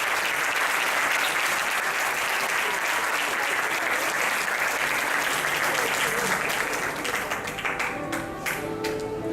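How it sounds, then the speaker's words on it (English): A large audience at a youth leadership forum opening ceremony gives a loud, sustained round of applause welcoming the Singapore delegates; the clapping thins into a few scattered claps near the end, with faint crowd murmur underneath. "Please welcome the delegates from Singapore with a big round of applause."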